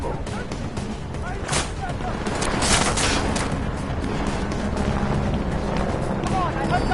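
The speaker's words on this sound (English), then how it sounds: "I heard gunfire." Gunfire in the video game Deus Ex: Mankind Divided, a steady dense wash of shots and rumble running through the whole stretch with scattered sharper cracks, fairly loud, with game voices mixed in.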